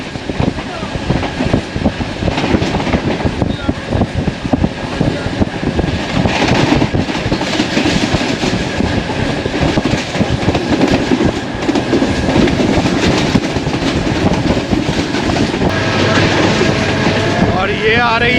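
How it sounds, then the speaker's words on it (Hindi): The 42 Down Karakoram Express passes close by in Sindh, a loud continuous rumble of rail cars with clickety-clack wheel rhythm lasting throughout, while someone talks over it. "और ये आ रही है 42 डाउन कराकरम एक्सप्रेस।"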